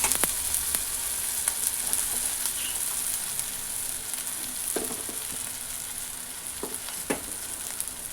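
Ugani ingredients frying in a pan give a steady bright sizzle, broken now and then by a few soft stirring clinks, close up with no talking.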